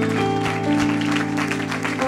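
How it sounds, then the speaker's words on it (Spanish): A church congregation applauds in a steady wash of clapping under sustained music tones, with brief speech mixed in. "yo sé que usted puede aplaudirle como por 18 segundos"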